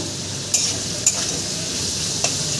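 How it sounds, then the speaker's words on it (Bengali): Continuous hiss and sizzle of vegetables, including papaya, frying in oil for shukto, punctuated by three sharp metallic clinks of a utensil against the pan. "লাল লাল করে ভেজে নেব"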